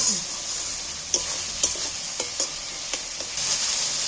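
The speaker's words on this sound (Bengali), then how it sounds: "এইবার মশলাটাকে সম্পূর্ণভাবে কষিয়ে নেব" Masala of tomatoes and onions fried down in a pan, with a steady hiss of frying and several sharp scrapes and taps of a spatula as it is stirred, close and alone.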